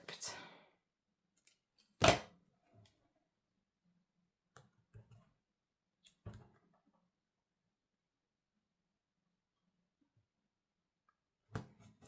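Scissors snip a paper sticker strip for a planner in a few short, sharp cuts with quiet pauses between, close and alone without talk.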